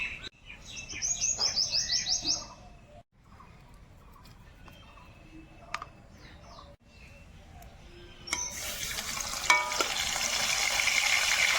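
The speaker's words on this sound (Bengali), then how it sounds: "মাছের মাথাগুলো ভাজা হয়ে গেছে" Fish heads frying in hot white oil, with a steady hiss that swells loud near the end, preceded by quieter clatter and bird chirps outdoors.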